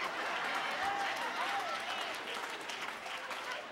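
A comedy audience applauds at a community stand-up show, a dense, continuous wash of clapping from many hands in the room, with some crowd voices mixed in.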